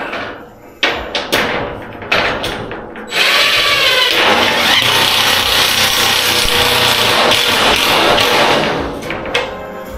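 A power drill drives screws into a board while a recessed light is installed, opening with a few sharp knocks and short bursts before a loud, close, continuous whirring run that lasts about six seconds and then stops, with no talking.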